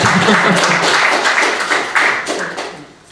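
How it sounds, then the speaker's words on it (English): An audience at a marriage equality debate held by Atheist Ireland breaks into a dense wash of applause that starts full and gradually fades over about three seconds. "You may applaud us."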